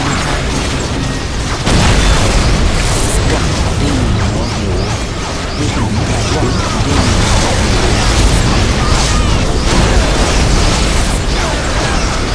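Incoming enemy fire in Dawn of War Dark Crusade, an Eldar campaign battle against Space Marines, with shells bursting inside a loud, unbroken din of explosions and mechanical clatter.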